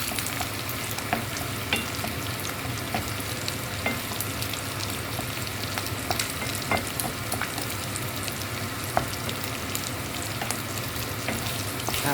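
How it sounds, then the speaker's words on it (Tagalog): Eggs and chopped hot dogs stir-fry in a hot pan for breakfast fried rice, giving a steady close sizzle with scattered clinks and scrapes from stirring, no talking. "I fried hot dogs and then added eggs. Yan, ihalo natin yung itlog."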